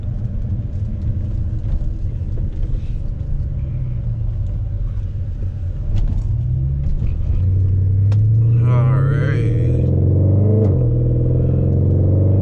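An Audi RS5 with resonator delete rumbles low and steady while driving, then the pitch climbs as it accelerates, with road noise underneath.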